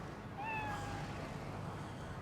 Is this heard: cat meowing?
yes